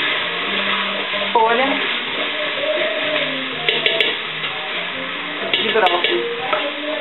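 Broccoli stalk, celery and tomato sauté in a pan over already softened onion, with a steady low sizzle and occasional stirring scrapes while someone talks over it.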